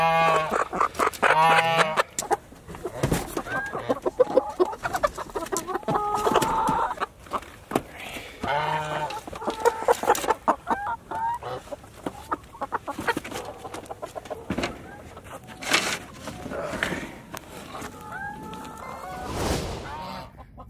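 Chickens, including Bielefelders, cluck and squawk in bursts around a farmyard, with scattered rustling and other birds.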